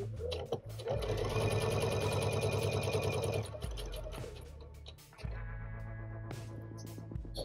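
A sewing machine runs steadily, stitching fabric in a loud continuous whir, then pauses briefly and starts again at a slightly different pace.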